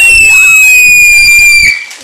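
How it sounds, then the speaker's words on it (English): A girl screams in a long, high, piercing wail that holds for over a second and a half before cutting off, with faint background noise and no talking. "Girl, now I think you're just screaming at this point in time."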